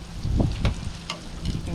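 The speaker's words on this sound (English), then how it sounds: "the wind and the sizzle." Food crackles and sizzles in a pan outdoors at an RV while gusts of wind rumble across the microphone, a few faint voices in the background.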